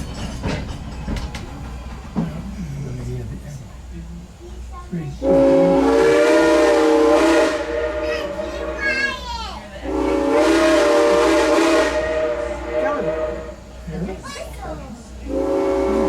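Steam whistle of Norfolk & Western locomotive 475 on the Strasburg Railroad sounds in two long loud blasts followed by a shorter third, with echoes ringing back across the valley between them and a low rumble underneath.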